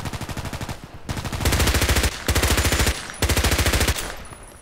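H&K MP5k submachine gun fire in the shooter game Contract Wars, four rapid full-auto bursts of close, loud shots separated by brief pauses.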